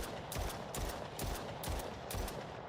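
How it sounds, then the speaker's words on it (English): Gunfire in an Unreal Engine 5 Call of Duty–style zombies game, fired skyward in quick bursts roughly every half second, sharp, loud and close, with no other sounds. "So now when we go to the game and shoot to the sky"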